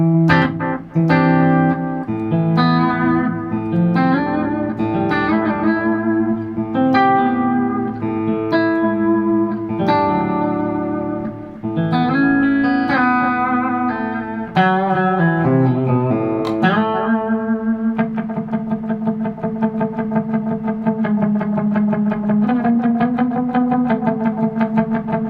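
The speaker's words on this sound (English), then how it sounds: "Oh, it has this wobbly kind of... I added a little bit of modulation into it." Electric guitar runs through a Keeley delay pedal with modulation added, giving a wobbly, echoing tone. A steady stream of notes and chords gives way to a long, warbling sustain, and no one talks over it.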